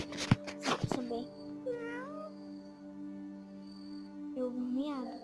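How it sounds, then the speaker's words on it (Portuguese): A cat lets out drawn-out, wailing meows that sound almost like crying, two separate cries spaced a few seconds apart over a steady background hum, and a brief burst of noise comes at the start. "Eu ouvi um miado, só que parece que o gato tá gritando, sei lá, tá chorando."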